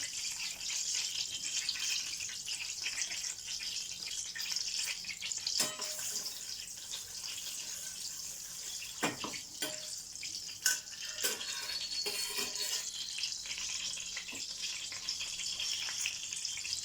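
Steady bubbling and hissing of a pot of Turkish yogurt soup at a rolling boil, close by, with a few brief clinks standing out over the simmer.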